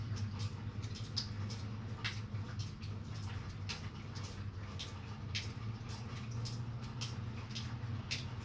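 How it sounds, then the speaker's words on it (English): After earlier rain, the last drops fall from a roof outdoors, making faint, irregular little ticks and patters over a low background hum. "That's last bit of rain dripping off of the roof."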